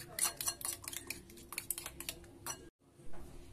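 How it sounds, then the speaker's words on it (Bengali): A fork or whisk beats egg with chili flakes and salt in a bowl, producing rapid, close metallic clicks and taps in an irregular rhythm, with a brief pause before the beating resumes. "দিয়ে এটাকে এবার ভালো করে ফেটিয়ে নেব"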